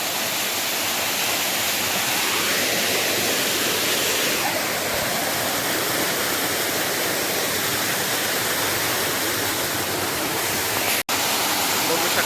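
Constant broadband rush of a waterfall in the Konkan countryside, close and loud, filling the whole stretch. A person seems to talk faintly over it at times.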